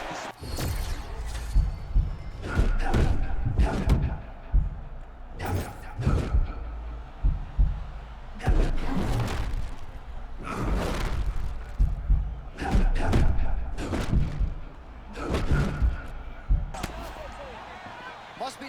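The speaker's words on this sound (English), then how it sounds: "Every punch he throws lands." Heavy punches thud in an EA Sports UFC video game octagon fight, repeated meaty impacts landing in irregular bursts with short pauses between flurries.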